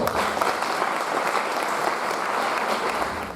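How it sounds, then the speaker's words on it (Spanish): Audience applause welcoming a doctor to the stage at a life-skills workshop, a steady, dense wash of many hands clapping at close range for a few seconds, with no talk over it. "demos la bienvenida a la doctora Elizabeth Arteaga con un fuerte aplauso, por favor"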